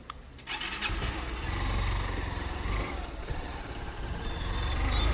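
A scooter engine starts after a brief click and settles into a low, close idling putter that grows slightly louder and steady.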